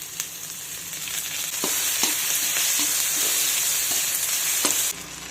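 Curry leaves drop into onion, tomato and chili frying in oil, giving a steady bright sizzle with small crackles and a few spoon taps, close and continuous until it cuts off near the end.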